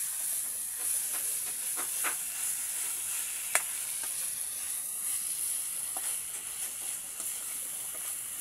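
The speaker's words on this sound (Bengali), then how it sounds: "আলু দিয়ে একটু নেড়ে দিচ্ছি।" Potatoes and cabbage stirred while frying in a pan: a steady loud sizzle and hiss with intermittent scraping clicks of the stirring utensil.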